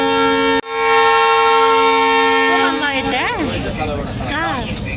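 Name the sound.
train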